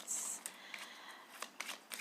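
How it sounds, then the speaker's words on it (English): Tarot cards are shuffled close by in a quiet room, giving soft, papery riffles and light flicks in short irregular bursts over about two seconds with no talk. "I know you can't see me shuffling, but I am shuffling."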